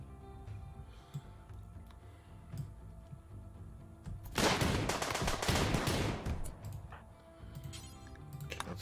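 Gunfire in the Rimworld video game, auto pistol shots included, breaks out as a sudden crackling burst of rapid shots over a low hum, lasting a couple of seconds before fading back into quieter ticking.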